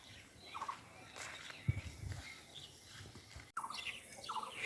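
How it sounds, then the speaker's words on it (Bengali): Many species of birds calling in the Sundarbans mangrove forest, with scattered chirps and calls at moderate distance over steady background noise, plus a few lower fowl-like calls. "হাজার হাজার লক্ষ লক্ষ বিভিন্ন প্রজাতির পাখির কিচিরমিচির শব্দ"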